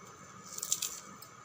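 Roasted peanuts having their papery skins rubbed and peeled off by hand, a soft crackly rustle that builds into a brief cluster of small crisp crunches, close and quiet.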